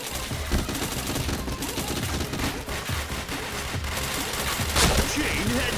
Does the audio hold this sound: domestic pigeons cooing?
no